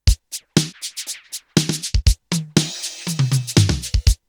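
A Yamaha RX11 drum machine pattern runs through delay and flanger effects, with automated panning. Punchy kicks and bright hits repeat in a quick, syncopated groove, close and prominent with no talking.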